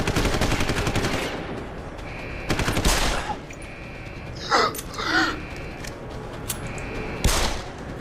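Gunfire from the video game Deus Ex Human Revolution, with bursts of suppressing shots crackling over a dense, noisy combat background and a few sharper reports standing out.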